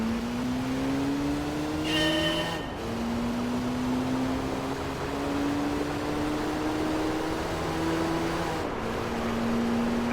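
Chevy Corvette Z06 engine in the Gran Turismo 3 racing game on a Seattle hairpin course, a steady high droning whine that climbs slowly, with two brief dips where it cuts and resumes, loud and close, no voices.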